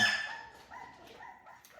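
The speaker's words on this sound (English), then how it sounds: "you got a bunch of little doggies there making noise" Several small dogs yap and bark in a short burst that fades into lighter, higher yips, heard from a little distance with no talking.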